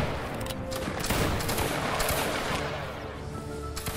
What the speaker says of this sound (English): Keep firing at will, go ahead.